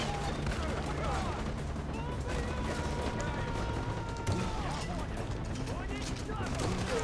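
Gunfire in a Far Cry 4 fortress assault, a dense continuous clatter of shots and battle noise throughout, with people talking over it.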